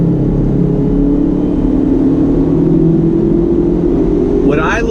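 A 2019 Ford Ranger XL with the 2.3-liter EcoBoost engine accelerates with a loud, steady engine drone that climbs gradually in pitch. It is heard from inside the cab, with no talking.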